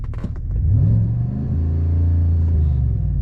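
A Chevrolet Silverado ZR2 pickup's engine revs up through an aftermarket exhaust, its low rumble climbing in pitch and then holding steady, loud and close, with no voices.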